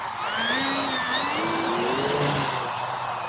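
Electric motor and propeller of an E-Flite Turbo Timber Evolution RC plane whine loud and steady, pitch climbing as it takes off, with no talking.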